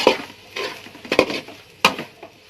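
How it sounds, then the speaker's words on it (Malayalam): A spoon scrapes and turns a spice powder mixture in a pan in several separate strokes, with short metallic scrapes and clinks spaced unevenly. The sounds are close and moderately loud, with no talking. "ഇളക്കി തിരിച്ചിടണം"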